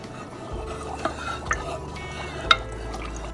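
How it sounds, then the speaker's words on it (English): Wooden spoon stirring noodles in a pot, giving soft liquid swishes with a few gentle knocks against the pot's side over a low steady hum from the stove. "I stir the noodles with a wooden spoon"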